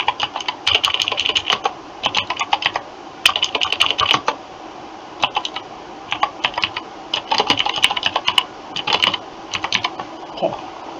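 Rapid typing on a computer keyboard, close and crisp, with clustered bursts of key clicks separated by brief pauses throughout, no talking.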